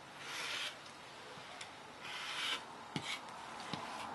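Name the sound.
cutting fabric along a square ruler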